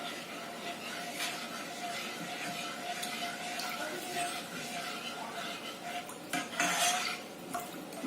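Kerala appam batter (kappi) is stirred in a pan on low flame, with steady scraping and clinking of a spoon against metal and a soft sizzle underneath. Someone speaks faintly over it.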